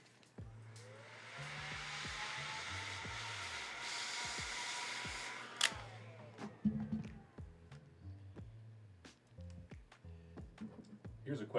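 A heat gun blows steadily for about five seconds while shrinking tubing on Sennheiser headphone cable connectors, a broad airy roar that cuts off and gives way to light handling clicks and some background talk.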